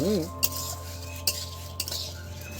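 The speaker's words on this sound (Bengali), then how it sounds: "এটা মিডিয়াম জালে এইভাবে নেড়ে চেড়ে নিতে হবে" Basanti pulao made with Tulsi Bhog rice, stirred in a pot over a clay stove fired with bamboo, giving a few soft scraping clinks against a steady low background hum, with no talk.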